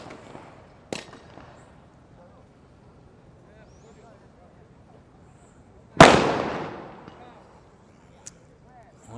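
A sniper rifle fires at a SWAT challenge shooting range, with one sharp crack early, a much louder booming report later that rolls off into a long echo, and a faint snap near the end amid quiet outdoor murmuring.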